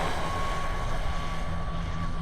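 A Traxxas Jato RC car on a 3S battery whines steadily as its tires spin, a continuous high motor drone with a sustained tonal pitch, loud and close with outdoor wind noise.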